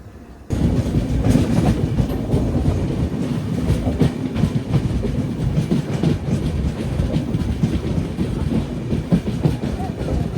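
Alleppey-Dhanbad Bokaro Express passenger train moving, a loud continuous rumble of the coach with rhythmic clickety-clack of wheels heard from on board.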